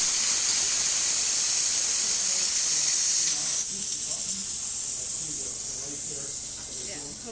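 A Rancilio Silvia espresso machine's steam wand hisses loudly and continuously, a broad steady rush that shifts slightly midway while faint indistinct voices murmur underneath.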